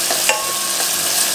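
Green chilies fry in a pan as a spoon stirs them, giving a close, bright sizzle with a few scraping clinks over a steady hiss.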